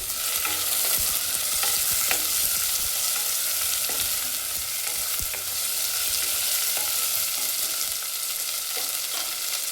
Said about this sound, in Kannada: ಇದು ಸ್ವಲ್ಪ ಎಣ್ಣೆ ಮತ್ತು ತುಪ್ಪದಲ್ಲಿ ಫ್ರೈ ಆದ ನಂತರ ಇದಕ್ಕೆ ಈರುಳ್ಳಿ ಸೇರಿಸ್ಕೊಳ್ಳೋಣ.